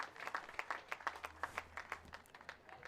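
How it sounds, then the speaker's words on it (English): Faint, distant crowd applause at a college baseball tournament game, a steady patter of many hands clapping with no voices standing out. "he gets another round of applause"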